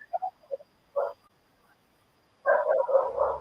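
Several dogs bark in short separate bursts, a few quick yips and then a single bark, followed after a pause by a louder cluster of overlapping barks close by.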